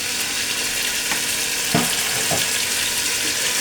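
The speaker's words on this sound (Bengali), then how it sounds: "এখন আমি এতে আদা রসুন বাটাটা দিয়ে দেবো" Steady, close hissing sizzle of ginger garlic paste frying in hot mustard oil, a continuous bright crackle with a few soft clinks of stirring, no voice.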